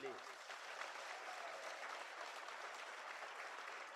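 Faint, steady audience clapping at an outdoor political rally, the Jabar Hareli stage programme of the Chhattisgarhiya Kranti Sena, continuing evenly throughout without rising.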